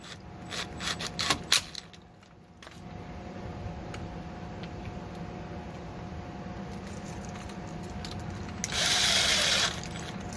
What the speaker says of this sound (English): we're just going to take the same screws that we pulled out of there and put them in here.